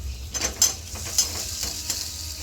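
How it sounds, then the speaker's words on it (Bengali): Potatoes and spices being stirred together in a pan for bread chop filling: a series of scraping spoon strokes at an uneven pace over a faint, low background sizzle. "আলুগুলোকে দিয়ে মশলাগুলোকে মাখিয়ে নেব"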